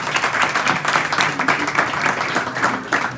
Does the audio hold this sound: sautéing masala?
no